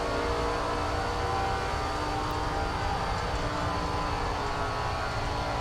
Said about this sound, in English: if you happen to be listening to the engine sound, particularly on corner entry